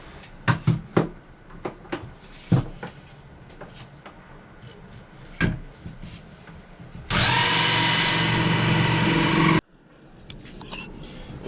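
Scattered knocks and clatter of workshop handling, then a loud, steady power saw cuts through a wooden guitar body for a couple of seconds before stopping abruptly.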